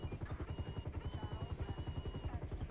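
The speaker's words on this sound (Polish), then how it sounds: "A helikopterko to nie słyszą, nie?" Helicopter in the video game GTA, a steady rotor chop with a fast low pulsing rhythm throughout, moderately loud and close with no speech over it.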